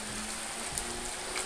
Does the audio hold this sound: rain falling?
yes